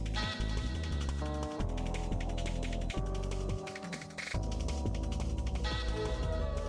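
Upbeat electronic game music plays with pulsing synth lines and a driving beat, dropping out briefly partway through before returning.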